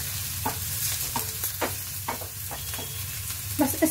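Onions frying in a pan for stuffed capsicum, a continuous sizzle broken by repeated scraping stir strokes at an uneven rhythm, close and moderately loud with no voices.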